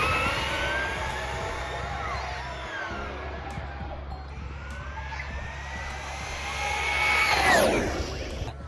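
A Traxxas Rustler 4x4 VXL RC car doing speed passes on a long open stretch, its high electric motor whine rising and falling in pitch as it approaches and passes close by, over steady background rumble.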